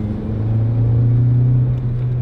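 A Honda Civic Type R EP3 engine drones loud and close from inside the car, with a steady low note that swells slightly as it pulls through the gears.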